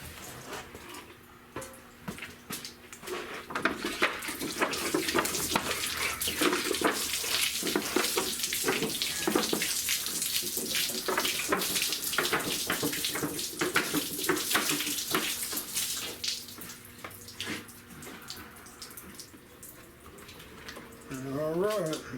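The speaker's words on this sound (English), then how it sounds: "I'm gonna spray it down, let it dry" Water spraying down a rusty car frame during a rust-treatment and repainting job, a continuous hissing, splashing spray with shifting intensity that swells and eases as the stream moves across the metal, close and loud throughout.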